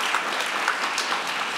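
Congregation applause at a church Sunday service, a dense steady clapping from a roomful of people filling the whole moment.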